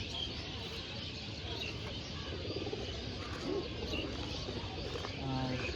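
Pigeons in a pigeon loft, among them a silver-patterned female, give soft, low cooing calls beneath someone talking steadily close by, with the coos rising briefly toward the end.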